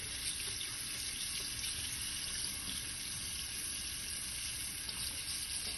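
Dentures are rinsed under a steady stream of running tap water, a constant close hiss and splash that holds even throughout with no talking.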